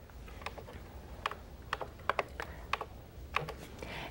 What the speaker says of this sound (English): So I'm going to use a pin stitch on my machine.